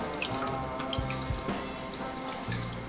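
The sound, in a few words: washing soaked lentils in water for homemade cerelac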